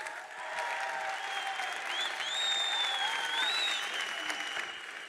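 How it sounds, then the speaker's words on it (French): Audience applause at a film screening for a short comedy series, a steady wash of many hands clapping at moderate volume, with faint tonal whistles or cheers threading through and no talk. "Et déjà, vous pouvez vous applaudir, vous avez fait un boulot formidable."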